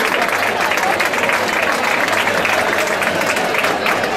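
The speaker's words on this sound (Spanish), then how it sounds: "Un aplauso, por favor." An outdoor crowd at a festival contest in Villarcayo claps in sustained, dense applause, loud and close, holding steady for the whole stretch without a break.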